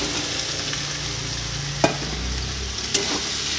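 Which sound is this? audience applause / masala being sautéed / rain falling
masala being sautéed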